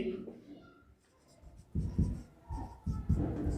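Chalk scrapes and taps across a board in short, close strokes, mixed with a voice speaking.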